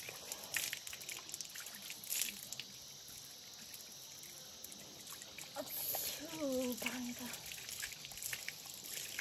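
Water flows steadily outdoors in a continuous broadband rush, fairly faint and close, with a brief voice-like tone rising over it partway through.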